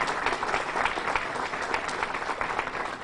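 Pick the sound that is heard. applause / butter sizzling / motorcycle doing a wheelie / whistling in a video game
applause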